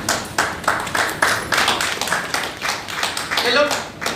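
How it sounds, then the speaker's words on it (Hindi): An audience claps in a steady, fairly loud run of hand claps at a business presentation, and the applause continues throughout. "ये लोग कौन लोग ताली बजा रहे हैं पता है?"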